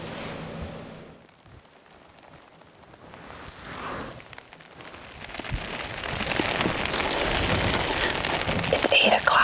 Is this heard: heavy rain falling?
yes